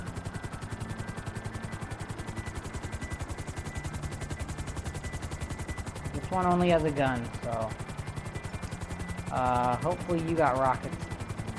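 A helicopter in GTA V beats out a steady, rapid rotor thump that runs through the whole stretch, with a player speaking over it in two short bursts.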